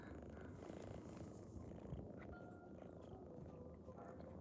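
A domestic cat purring steadily up close, a soft continuous low rumble with a faint rhythmic pulse and a little background noise, no talking over it.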